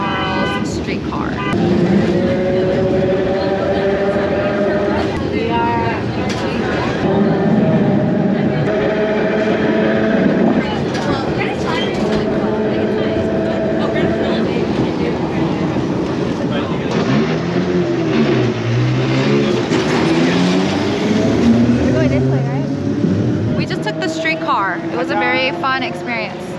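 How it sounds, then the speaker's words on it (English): A St. Charles streetcar ride in New Orleans, with continuous rumbling and rattling of the car rolling along the tracks, squeals and shifting tones throughout, while people talk nearby. "We are currently on St. Charles Streetcar."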